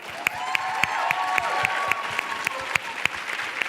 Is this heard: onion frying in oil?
no